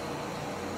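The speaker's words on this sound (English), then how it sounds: "If you hear a noise in the background, it's my air conditioner" An air conditioner runs steadily in a room, giving a constant, even broadband hum and hiss with no talk over it.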